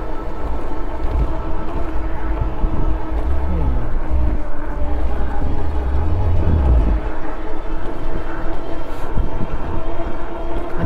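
A Hovsco HovBeta foldable fat tire e-bike riding under throttle, a steady loud wind roar and road rumble throughout with a low motor whine beneath, with a person speaking over it.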